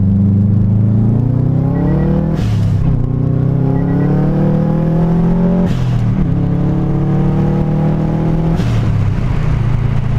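A 2005 Subaru STi engine pulls hard while driving, loud revs climbing through the gears in three rising sweeps, each broken by a brief dip at the shift, with no talking.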